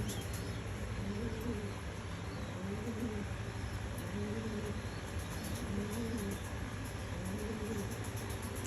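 Mealy and grizzle pigeons coo repeatedly in low, soft, rolling phrases over a steady background hum, with faint chirps high above.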